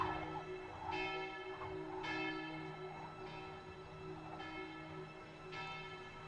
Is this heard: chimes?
yes